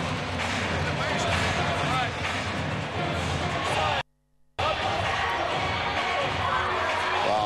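A basketball arena crowd at a EuroCup game roars and cheers loudly and steadily through a timeout, broken by a brief drop to near-silence before the dense noise resumes.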